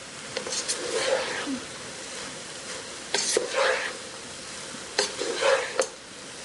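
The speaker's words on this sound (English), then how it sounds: "Now again, you want to kind of stir it really lightly so you don't break the rice." A spatula gently turns Chinese fried rice in a pan, bringing a soft sizzle broken by a few brief scraping strokes in short bursts, with quieter stretches between them.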